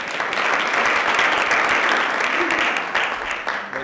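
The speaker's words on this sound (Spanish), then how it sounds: "le damos un aplauso" An audience bursts into loud, sustained applause to welcome a speaker at a science talk, and the even, dense clapping holds for several seconds before easing slightly at the end.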